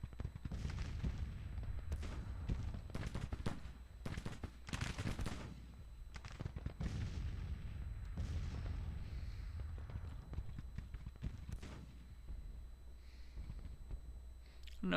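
Artillery fire in a Civil War strategy video game: a dense, continuous barrage of booming cannon blasts and crackling volleys, loud and sustained throughout with layered distant and nearer shots.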